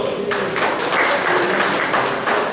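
Applause from an audience at an NU district branch (MWC) conference in Singosari, a dense patter of many hands clapping steadily through the whole stretch with a brief quieter start.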